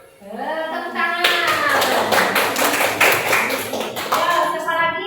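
A classroom of children clapping in unison, a rapid patterned series of claps after a brief chanted voice, with young voices overlapping the clapping.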